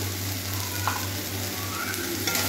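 Prawns sautéing in a pan with salt and turmeric, a steady close sizzle and frying hiss with occasional stirring scrapes, continuous and alone without talk.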